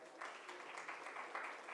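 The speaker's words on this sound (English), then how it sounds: "Ladies and gentlemen, can we have a huge round of applause for Mr." Conference audience applause for a guest at a banking and finance industry event, a short, fairly soft burst of many hands clapping in a large hall, steady throughout its brief length.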